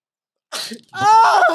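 A single loud sneeze close by, preceded by a quick sharp intake of breath, with silence before it.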